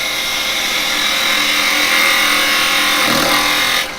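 A woodturning lathe spins a piece of firewood as a gouge cuts on the bevel, producing a loud continuous whirring grind that swells slightly midway and drops off at the end.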